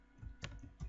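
Computer keyboard typing while laying out text for a Ramadan banner design, a few sharp isolated key clicks close by in a quiet room.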